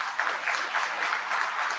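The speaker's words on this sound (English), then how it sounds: "I'll ask for a round of applause for the work that's been done." A short, moderately loud round of applause rises at a public board meeting, a steady patter of clapping hands with no voices over it.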